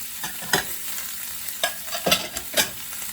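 Onions, peppers and garlic sizzling in a skillet for a beef stir-fry, a steady crackle broken by several sharp scraping stirs close by, with no talking.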